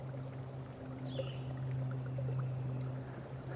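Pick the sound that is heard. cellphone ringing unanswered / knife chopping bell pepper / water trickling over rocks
water trickling over rocks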